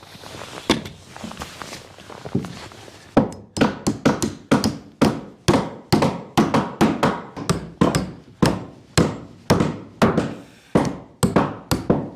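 Hammering nails into a wooden wagon: a few spaced knocks, then a long fast run of sharp, solid hammer strikes on wood, loud and close, with no talking.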